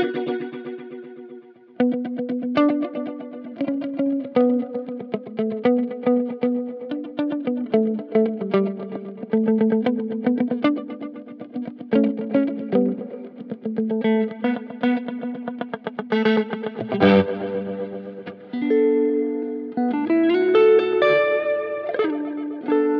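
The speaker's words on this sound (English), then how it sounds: "Let's turn the modulation up a little bit more." A guitar runs through a Boss DD-200 digital delay with its stereo modulation effect turned up, giving lush, wavering echoes that trail behind picked notes and chords, loud and continuous with no talking.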